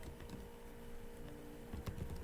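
Quiet, irregular key taps from typing on a computer keyboard, heard close and faint, in short bursts with no voices.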